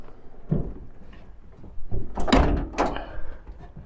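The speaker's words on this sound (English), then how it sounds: "I'll just open these back doors, get a bit of light in." Back doors of a Peugeot Boxer van being opened: a faint latch click, then two louder metallic clunks and rattles as the doors swing open, close by with no talk.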